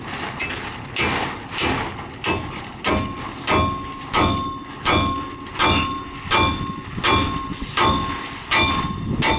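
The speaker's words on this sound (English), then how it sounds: "you're going to loosen up each ball joint with the hammer" Hammer blows ring out against the ball joints of a 1997 Ford F-150's control arm, about a dozen sharp metallic strikes at a steady rhythm, close and loud, with no talking.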